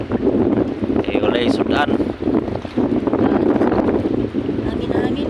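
Wind blows strongly in gusty, rumbling buffets against the microphone beside wind-driven waves, with a person talking over the noise throughout.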